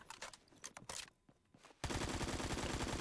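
An AKM assault rifle in Phantom Forces fires scattered single shots and footsteps, then a brief lull, then a dense rapid automatic burst, close and loud.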